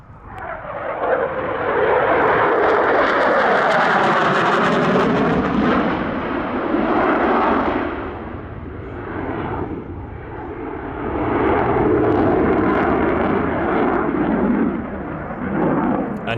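A light training aircraft with a 90-knot cruise flies a display at the Meaux airshow, its engine droning loud and close as it passes, swelling and fading slightly with a shifting pitch.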